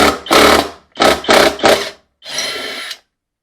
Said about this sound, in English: I'll just finish the rest with my drill since it's loosened up